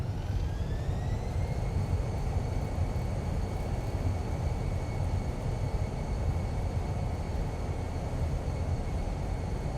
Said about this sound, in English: Reversers out, reversers green.